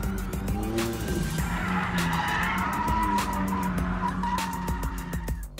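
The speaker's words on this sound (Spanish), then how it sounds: "Los amantes del sector automotor nos dimos un banquete que incluyó algunos derrapes en una pista adaptada frente al centro de convenciones de Las Vegas" Cars drift on a temporary track set up outside the Las Vegas convention center during CES 2018, giving loud, sustained tire squeals and wailing engine revs that rise and fall across the clip without any talking.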